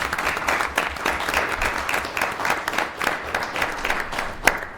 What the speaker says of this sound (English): Let's give Christian another round of applause.